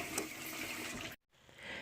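Water from a measuring cup pours steadily into a pot for making grits, a continuous splashing wash that cuts off abruptly, then a softer trickle resumes briefly.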